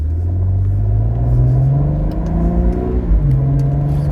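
Cadillac ATS-V accelerating hard away from a traffic light, a loud close engine roar rising steadily in pitch, then dipping briefly at a gear change before climbing again.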